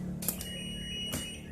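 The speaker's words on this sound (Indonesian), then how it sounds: "Nah, dia akan aktif lagi peringatan buzzernya." Warning buzzer on a DC UPS module (V4) sounding two short, sharp beeps about a second apart over a steady low electrical hum, close to the microphone with no talking.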